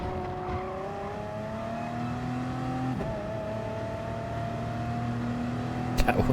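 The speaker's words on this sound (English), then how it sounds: "That was an engine sound." A race car engine in the video game Gran Turismo Sport drones steadily, its pitch climbing through the gears with a shift about midway, loud and continuous without talk.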